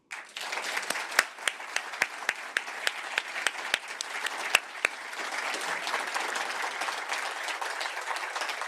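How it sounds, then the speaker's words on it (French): An assembly hall audience at a general meeting breaks into applause, starting with a few sharp separate claps that quickly merge into a fairly quiet, continuous wash of clapping. "je vais demander un grand applaudissement à Thibaut pour les DU."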